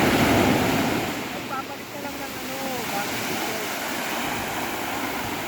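Sea waves wash onto the shore at Karowan in Cagayan, a steady broadband roar of surf that is loudest at the start and then holds an even wash. Faint voices and whistle-like tones sit in the background.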